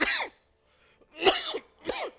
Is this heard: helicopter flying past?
no